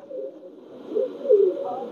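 Pakistani Teddy pigeon cooing close by, a low throaty murmur that swells twice, louder in the second half, with no talk over it.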